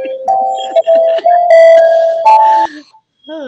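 Bells ringing in a living room, a run of sustained bright chiming tones that carry over one another for about three seconds, then a short softer ringing phrase after a brief gap.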